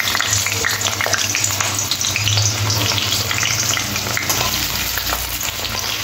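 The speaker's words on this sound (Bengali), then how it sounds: "পটল আর আলুটা এরকম লাল করে ভেজে নিতে হবে" Pieces of pointed gourd and potato fry loudly in very hot oil, a dense continuous sizzle and crackle close up, with a low background hum beneath and no voices.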